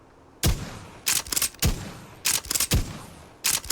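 An MW19 VLK Rogue gun fired in a Fallout 4 mod, several loud sharp shots in quick pairs and short bursts, each with a brief decaying tail, no talking.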